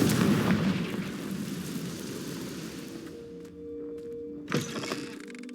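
A Confringo blasting spell from the Hogwarts Legacy video game erupts in a dense, loud burst of crackling fire and rumble, which fades into tonal magical shimmer with a second sharp impact near the end.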